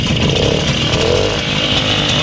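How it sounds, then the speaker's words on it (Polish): A 1965 WSK M06 motorcycle's two-stroke engine idles and runs close by, a loud, buzzy, steady drone with slight fluctuations, no talking over it. "Silniczek pracuje bardzo dobrze, przykładówka lekka."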